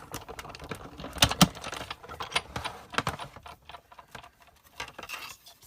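Paper being cranked through a die-cutting machine, giving a dry run of irregular clicks and ratcheting taps, close and fairly quiet with no speech.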